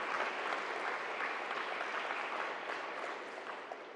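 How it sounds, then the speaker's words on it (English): Dense, steady applause from the crowd at a college sports awards ceremony, a continuous wash of many hands clapping that fades slightly toward the end. "So round of applause for them."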